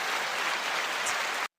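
Dense crowd applause, likely a canned track on a pop culture podcast, a steady hiss of many clapping hands that cuts off abruptly near the end.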